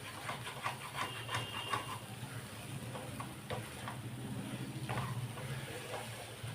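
Egg bhurji cooking in tomato chutney in a pan, a low steady sizzle broken by soft repeated scrapes and clinks of stirring, close up with no talking.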